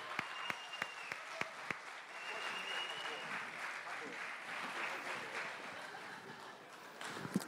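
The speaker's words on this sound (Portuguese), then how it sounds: "uma salva de palmas para os nossos astros" Audience applause for participants at a hypnosis show, steady and fairly loud for several seconds, opening with a few sharp separate claps before the crowd joins in, with some voices and cheering mixed in.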